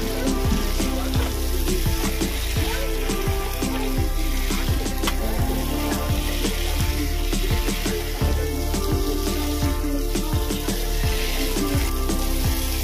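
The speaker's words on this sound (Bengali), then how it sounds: "এবার আমি ভেজে রাখা আলু পটলগুলো এর মধ্যে দিয়ে দেবো। এটাকে ভালো করে মিশিয়ে নেব।" Fried potatoes and pointed gourd stirred into hot spiced oil in a pan, giving a steady close sizzle with repeated scraping and clinking from the stirring throughout.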